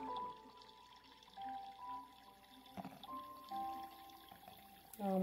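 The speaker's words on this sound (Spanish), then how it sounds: "A ver cómo va bajando el agüita" Water trickling from a bottle down into a small balloon while a sensory bottle is made, a quiet gurgling pour with soft bubbling tones and a few drips, close and faint.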